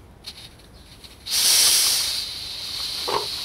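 Gas hissing from the valve of an MSR Pocket Rocket camping stove as it is opened during a first boil test, a sudden steady loud hiss that starts after a quiet moment and holds on, easing slightly toward the end.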